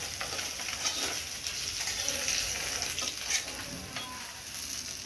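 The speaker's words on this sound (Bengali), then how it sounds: "মাছের মাথা সব ভেজে নিয়েছি, তুলে নিচ্ছি।" Katla fish heads fry in oil with a soft, steady sizzle and spatter, fairly quiet and continuous, with faint stirring and no talking.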